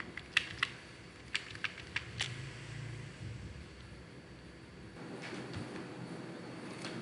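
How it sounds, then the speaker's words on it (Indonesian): Keys tapped on a computer keyboard while working in Microsoft Excel, a handful of crisp separate clicks over a low steady room hum. "jangan lupa kita ketik F4 pada keyboard untuk mengunci"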